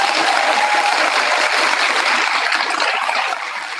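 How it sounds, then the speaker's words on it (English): A crowd at a speaking event gives a dense, steady round of applause, many hands clapping at once in a continuous wash of sound that eases slightly at the end. "How about another round of applause?"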